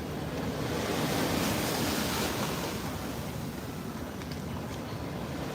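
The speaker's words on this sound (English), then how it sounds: "As you can hear on my left side, we are beside the ocean" Steady roar of ocean surf at El Nido in the Philippines, broad and continuous with wind buffeting the microphone, no voices present.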